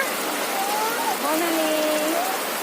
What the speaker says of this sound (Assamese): বৰষুণ ইমান বৰষুণ